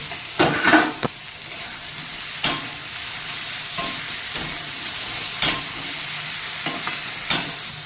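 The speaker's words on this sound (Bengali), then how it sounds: "কাঁকড়াটা কষতে হবে" Sea crab fried and stirred in a pan with ginger, garlic, cumin, chilli and black pepper, giving a steady sizzle broken by sharp scraping stirs that come every second or so.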